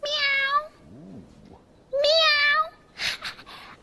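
A cat gives two clear, bright meows, one at the start and another about two seconds later, close and fairly loud, with a brief lower murmur and a short noisy burst in between.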